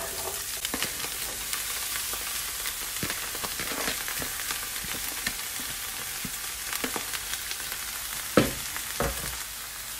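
Broccoli, carrots and cabbage sizzle and fry in a hot pot, a continuous crackling hiss with occasional sharper pops and stirring clatter.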